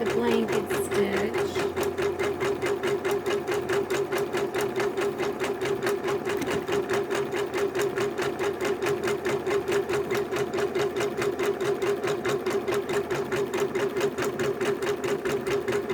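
Sewing machine stitching a blanket stitch around a heart appliqué on a quilt: steady, rapid mechanical chatter of the needle running close and continuous, with a person speaking over it.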